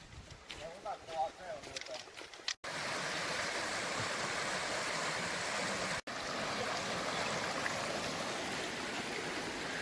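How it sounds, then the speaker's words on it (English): A big river on a woodland hiking trail rushes in a steady, dense wash of water noise, preceded by a couple of seconds of quieter outdoor sound with faint bird chirps. "I think we're about to ford that big raging river."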